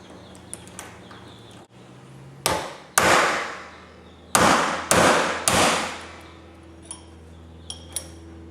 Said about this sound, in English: I don't have room to get a good hit with a hammer on the lock, so I'm going to just take a punch